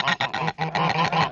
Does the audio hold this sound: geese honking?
yes